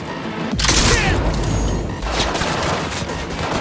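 Gunfire in the video game Cyberpunk 2077 bursts out abruptly, a loud booming volley with a rumbling tail that trails into clattering combat noise.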